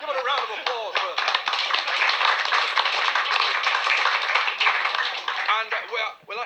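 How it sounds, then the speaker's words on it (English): An audience gives a live radio show volunteer a sustained round of applause, dense clapping that fills the room at steady strength for several seconds before it tapers and cuts off at the end. "Give it a round of applause for her."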